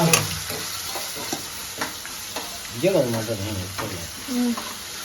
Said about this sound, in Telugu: అల్లం వెల్లుల్లి పేస్ట్ ఇది బాగా వేయించాలి